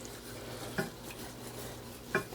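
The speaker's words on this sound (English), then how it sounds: "I've switched over to a wooden spoon from the Whisk for the roux" A wooden spoon stirring a roux in a hot pot: two soft scraping strokes, well apart, over a quiet background hiss.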